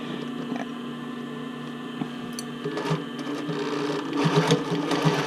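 A sewing machine back stitches rolled-edge elastic onto a sports bra, giving a steady, close motor whir with a rapid needle chatter that grows slightly louder toward the end, with no voices.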